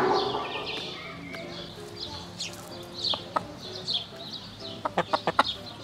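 Chickens clucking and calling in short bursts around a yard, with a quicker run of clucks near the end and soft background noise.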